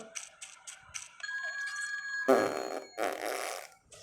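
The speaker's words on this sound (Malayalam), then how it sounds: "ഇവന് വളി വിടുന്നതാണ് ആദ്യത്തെ പ്രത്യേകത" A short comic fart sound from a character in the video game GTA 2 bursts out after a few electronic beeps and tones, then a second fart follows, both sharp and cartoonish.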